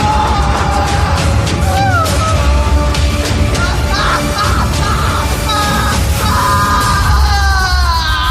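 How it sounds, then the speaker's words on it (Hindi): A horror story's screaming sound effect: loud, continuous shrieking and yelling over dense, noisy background sound with no pauses, held for the whole stretch without spoken words. "पूरे माहौल में बस कौशिक की चीखें गूंज रही थी।"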